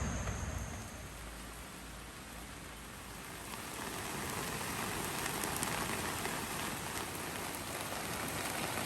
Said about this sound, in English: That is a lot of rain behind me, all around us.